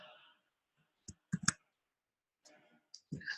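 Typing numbers into a computer for a statistics calculation: a few quick, crisp keyboard clicks arrive in short clustered bursts separated by pauses, close and fairly clear, with no talking.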